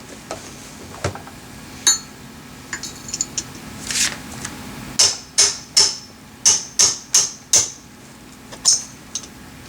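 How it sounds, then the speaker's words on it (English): A small hammer taps a steel pick to work a winch cable end out of the drum housing on a Warn 4.0 4000 or 4500 winch: sharp metallic clinks, scattered at first, then a quick, regular run of close, ringing strikes. "I'm using just a small pick, a small hammer, to slowly work it out of its housing."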